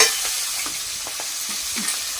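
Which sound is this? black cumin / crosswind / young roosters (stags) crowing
black cumin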